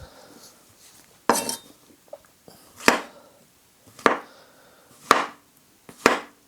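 A knife cuts three medium mushrooms into 4 to 5 millimetre slices on a cutting board, giving about six distinct, well-spaced chops that land firmly and close up with no talking.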